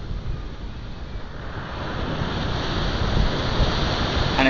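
Surf rolls onto a beach at British Bay on a mild November day, a steady broadband wash that builds slightly toward the end, with wind buffeting the microphone.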